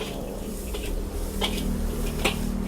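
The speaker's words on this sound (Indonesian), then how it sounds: "langsung diongseng ya" Shrimp are stir-fried in a pan with spices at a Chinese food eatery, giving a steady close sizzle with faint scraping and a few sharp clinks over a constant background hum.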